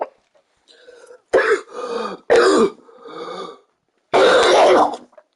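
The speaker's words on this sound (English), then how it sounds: "I hate coughing so much after smoking flower, though, dude." Several loud, harsh coughs and throat-clearing bursts after smoking cannabis flower, close up and mostly alone, arriving in an irregular run of short fits with a longer hacking spell near the end.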